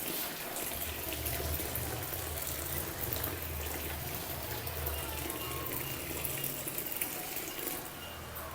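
A steady stream of liquid pours from above into the middle of a pot of soya milk to curdle it for paneer, giving a continuous close gushing wash that stays even throughout.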